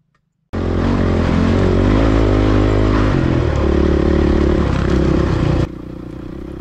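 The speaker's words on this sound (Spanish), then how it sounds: "Ahí se oye la moto, parece." A motorcycle engine runs steadily up close near an abandoned desert mine, its low rumble shifting pitch a few times before dropping to a quieter idle.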